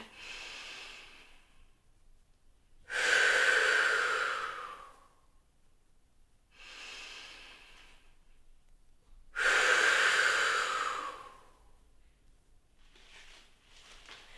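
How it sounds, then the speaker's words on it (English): Deep breaths during a breathing exercise, two long loud airy inhalations alternating with quieter, softer exhalations in a slow steady rhythm, close to the microphone with no talking. "you feel your whole rib cage pressing into the band as you breathe in"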